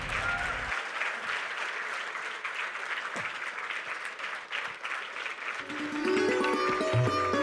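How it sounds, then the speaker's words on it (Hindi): Sustained applause fills a large hall at a ceremony opening a Sri Chaitanya Academy centre in Nagpur, steady and crowd-wide, before music rises near the end. "तालियां बजती रहनी चाहिए for the Shri Chaitanya academy everybody"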